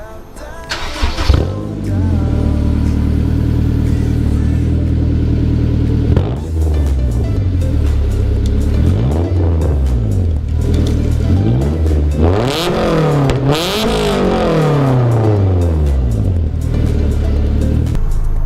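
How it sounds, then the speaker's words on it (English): A Honda car with an aftermarket exhaust starts up and free revs in a shop, loud and close, with repeated rising and falling revs over a rumbling idle. "this exhaust is on. It sounds pretty loud already, just free revving in the shop"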